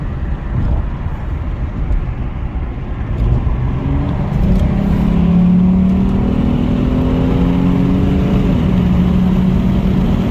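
Lexus IS350 with a cold air intake accelerating onto a highway, its engine droning loud and close and rising steadily in pitch as the revs climb, no talk over it.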